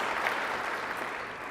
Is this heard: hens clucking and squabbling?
no